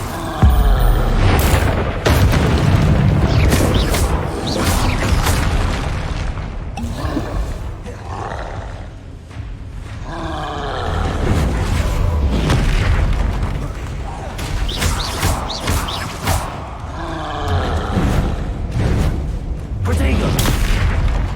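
Spell blasts and explosions in the video game Hogwarts Legacy: loud booming bursts and roaring impacts in quick succession throughout, with shouted spell incantations mixed in.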